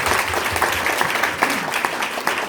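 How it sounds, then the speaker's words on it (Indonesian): Audience applause at a company promotion event, a brief burst of many hands clapping with some individual claps standing out, close and fairly loud, no speech over it. "Tepuk tangan buat Pak Bingan."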